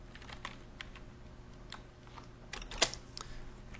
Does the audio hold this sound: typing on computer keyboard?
yes